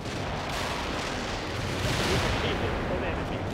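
Artillery strike explosions in the war strategy game World in Conflict, a dense, continuous roar of booming blasts and rumbling fire, loud and sustained, with voices faintly mixed in.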